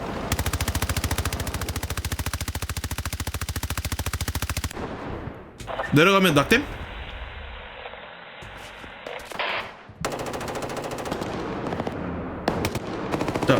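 Rapid automatic gunfire from the Roblox shooter game DEADLINE rattles in a steady, loud burst for several seconds, then gives way to a player talking and more in-game effects.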